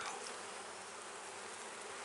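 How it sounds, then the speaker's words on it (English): A dense, steady hum of many honeybees buzzing together at a hive, continuous and close. "Good number of bees on this hive."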